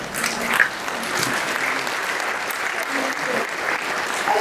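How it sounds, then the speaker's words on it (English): Audience applause for the Chief Justice at a judiciary event, a steady moderate wash of clapping from a seated crowd heard at a slight distance throughout. "give a round of applause to the Honorable Chief Justice"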